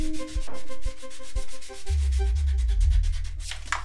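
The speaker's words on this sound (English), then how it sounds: "Hand sanded, down to 120." Dried Bondo body filler being hand sanded with 120 grit sandpaper, a close, steady rasping scrape in repeated back-and-forth strokes that grows louder and denser partway through, with no talking.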